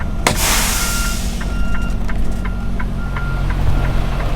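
A truck backs slowly past closely parked cars, its engine rumbling steadily while faint reversing beeps repeat at an even pace above it.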